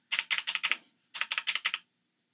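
Keys tapped on a Doomhammer CHOC96 96% keyboard, two quick bursts of four or five sharp clicks each, close and crisp with a short pause between bursts and no talking.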